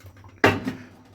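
A cooking pan set down onto a stovetop cooker, a single clattering knock with a short ringing tail, close and fairly loud in an otherwise quiet kitchen.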